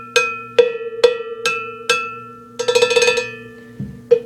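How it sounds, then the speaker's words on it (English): A cowbell struck with a drumstick rings out in single metallic clanks at an even pace, then a quick flurry of rapid hits, then a few more strikes. "It sounds like this. You can get different sounds of it by hitting different parts of the drumstick."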